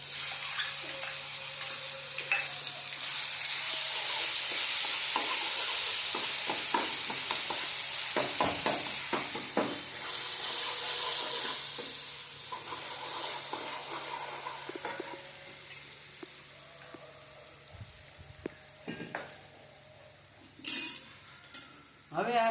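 Garlic-chili paste frying in a pan alongside curry leaves, a loud steady sizzle with stirring clatter that fades quieter toward the end, with a few sharp clinks near the close.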